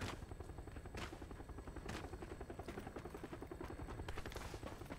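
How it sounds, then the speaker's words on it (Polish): A helicopter in the video game PUBG drones with a pulsing rotor chop, joined by scattered sharp gunshot cracks, fairly loud throughout. "Helikopter. Nie wiem, co robi helikopter."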